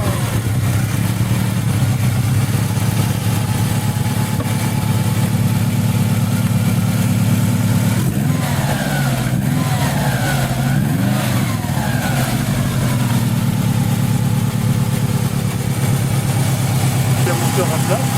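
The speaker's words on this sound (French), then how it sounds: "moteur à plat, 4 cylindres" A Subaru GT 96 flat-four engine idles with a steady low rumble throughout, while people talk nearby over it.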